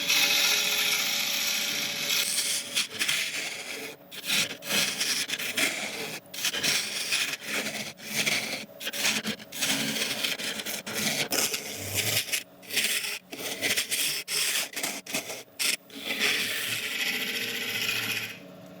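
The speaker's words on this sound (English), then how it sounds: "Right, I'll go and sharpen up again" A woodturning tool is sharpened on a grinder in bursts of harsh, steady grinding and rubbing, broken by short pauses as the tool is lifted and repositioned, close and fairly loud with no talk.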